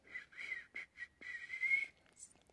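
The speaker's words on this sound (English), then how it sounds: "I think that was like my best whistle I've ever done." A person whistles a short series of clear, wavering notes with brief breaks between them, close and fairly quiet.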